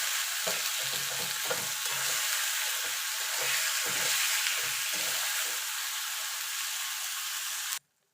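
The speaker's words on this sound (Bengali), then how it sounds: "এবার মশলাটাকে ভালো করে কষিয়ে নেব।" Spice paste fries in a pan for vegetable khichdi, a steady loud sizzle with rhythmic stirring scrapes throughout, ending abruptly.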